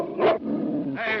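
A dog named Buck growls close and loud in a continuous rough rumble, flaring into two harsher snarling bursts at the start and end, with no voices over it.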